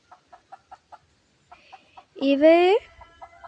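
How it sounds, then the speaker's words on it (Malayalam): A small pet hen kept at home gives a string of soft, quick clucks, then one loud drawn-out squawk, followed by a few more quiet clucks. "ഇതാണ് നെക്സ്റ്റ് കോഴിക്കുട്ടി. ഇപ്പോൾ ഉള്ള കോഴിയാണ്."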